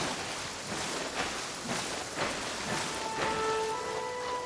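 Steady rain hisses continuously in a Genshin Impact game scene, with a few soft splashes and a faint tonal hum entering toward the end.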